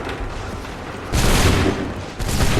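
Massed musket volleys in the video game Assassin's Creed III Remastered, a dense rolling roar of gunfire that swells sharply twice, loud and continuous with no clear single shots.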